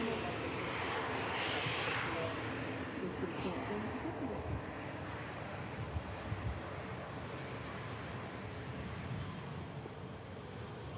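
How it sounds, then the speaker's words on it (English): A SunExpress airliner bound for Antalya departs Manchester Airport, a distant broadband jet roar with wind noise, steady and faint, with light talk over it. "Sun Express Special is lined up for departure."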